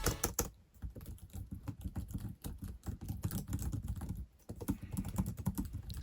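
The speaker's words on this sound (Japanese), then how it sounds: "せっかくなので打鍵音も聞いてもらおう。" Typing on the per-key RGB SteelSeries keyboard of an MSI gaming laptop with Japanese layout and soft, low-click keys: a steady run of close, muffled keystrokes with a brief pause partway through.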